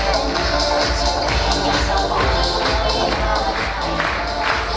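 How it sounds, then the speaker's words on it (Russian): Audience applause at a KVN comedy league final, steady dense clapping from a large hall crowd sustained throughout, with faint crowd murmur mixed in. "Ваши громкие аплодисменты."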